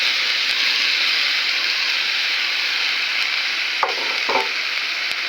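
Garlic hits a hot wok for a garlic pickle and fries with a loud, steady sizzle throughout, with a couple of brief stirring scrapes near the end.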